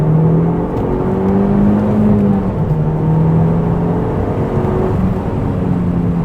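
A 2005 Audi TT Quattro Sport with four-wheel drive pulls hard under full throttle, its engine a loud, continuous drone with shifting pitch, heard from close and with no talk over it.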